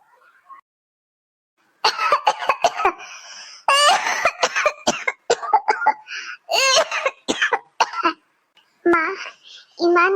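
An elderly woman in an Assamese animated cartoon coughs in repeated harsh bursts, voiced by an actor imitating the cough, broken by short pauses and close to the listener.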